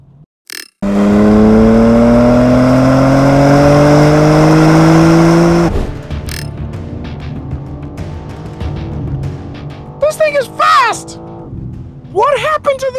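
A 2025 Chevrolet Corvette E-Ray or 2025 BMW M4 xDrive Competition, an all-wheel-drive sports car, accelerates hard with a loud, rising engine roar for several seconds, then the sound drops to a quieter cabin hum with voices.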